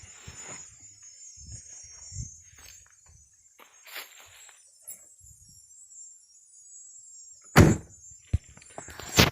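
A heavy Dodge Durango car door closes with a sharp, loud thud near the end, followed by a second hard knock, after quieter scattered clicks and handling noises over a steady high-pitched whine.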